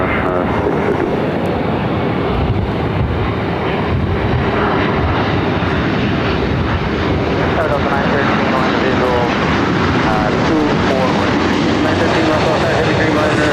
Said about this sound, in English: Looks like we also have a 777 freighter crossing over us